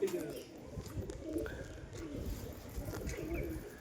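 Domestic pigeons coo softly in a short burst of low, throaty calls, heard close and somewhat faint over a low background rumble.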